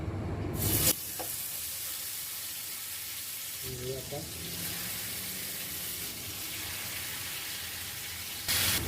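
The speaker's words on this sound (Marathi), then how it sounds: "सगळ्यात पहिला आपण हा लेग पीस फ्राय जो आहे" Marinated tandoori chicken leg pieces frying in a pan give a steady, close hiss of sizzling oil, with brief stirring and clatter partway through and no talk.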